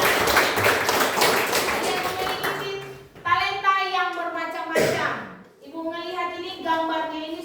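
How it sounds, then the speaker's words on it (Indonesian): A class of children claps together in a brisk burst of about three seconds, then high children's voices take over, with a few scattered taps between them. "kita beri tepuk tangan buat kita semua"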